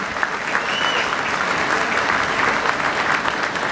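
Steady, dense applause from an audience at a 9/11 memorial ceremony, sustained and even throughout with a few whistle-like tones riding on top.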